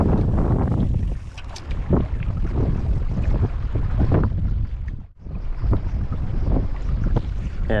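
Strong wind buffets the microphone on a lagoon shore during inshore fishing, a loud, continuous rumbling roar with gusty surges and a brief lull near the end.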